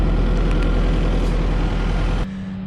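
Farm tractor engine idling while hauling a manure spreader, a steady loud low rumble close by that drops off sharply near the end, leaving a quieter hum.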